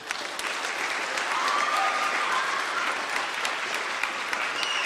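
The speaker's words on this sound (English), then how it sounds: "I think we can do a better job with the clap." An audience at a National Honor Society induction ceremony claps steadily, a dense, fairly distant wash of applause with no voices.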